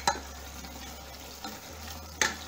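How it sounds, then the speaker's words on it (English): Chopped garlic fries in a pan with a quiet, continuous sizzle, broken by three distinct clinks and scrapes of a utensil stirring, the last one loudest. "I've chopped my garlic, so quickly I'll put it in. And stir properly."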